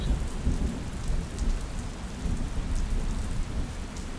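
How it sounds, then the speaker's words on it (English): Steady heavy rain pouring on surfaces with low rumbling thunder rolling underneath, a dense, continuous wash of sound close by, with no voices. "I can't imagine ever hating rain and thunder and everything it brings."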